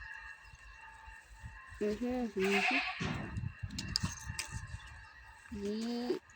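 Several nasal goat bleats close by, a couple in quick succession then another after a pause, with shuffling and outdoor noise between.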